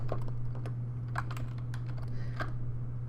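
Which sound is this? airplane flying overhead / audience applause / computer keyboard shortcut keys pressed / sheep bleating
computer keyboard shortcut keys pressed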